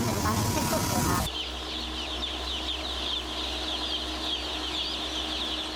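Broiler chickens at a farm raising 1.5 kg frying birds give off a continuous crowded chorus of chirps and clucks. A loud burst of noise opens the sequence, then the dense flock sound carries on steadily.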